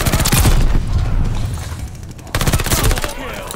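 PPSh submachine gun in Call of Duty Vanguard firing two rapid full-auto bursts up close, the loud rattle breaking off briefly between them amid game ambience.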